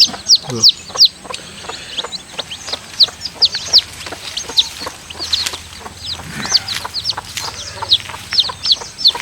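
Chickens and their chicks cluck and cheep steadily close by, with rapid high peeps from the chicks over lower, intermittent clucks from the hens.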